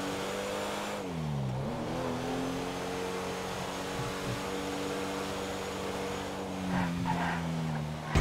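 A Rolls Royce in GTA 5 accelerates with a steady, droning engine note that dips and climbs as it shifts, running continuously with a brief louder surge near the end.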